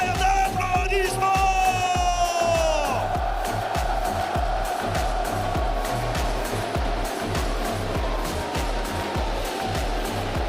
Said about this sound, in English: Et pour vos deux équipes, un tonnerre d'applaudissements.